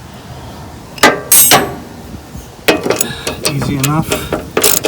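A ratchet wrench clicks loudly up close while spinning off 1/2 inch bolts on an MTD Yard Machines 638RL mower deck, in short ratcheting bursts with metallic clinks, and someone speaks briefly.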